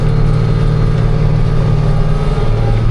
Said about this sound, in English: Let's hop back in the tractor. It's working along real nice.